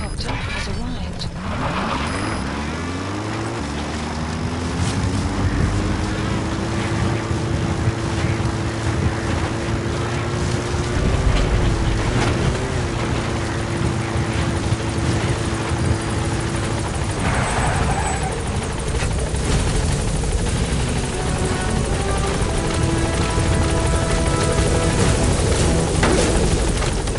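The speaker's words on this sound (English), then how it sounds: "Support helicopter has arrived." A support helicopter arrives in the video game Metal Gear Solid V: The Phantom Pain, its loud rotor whir and engine whine rising in pitch, then holding steady over continuous noise, with a voice briefly heard.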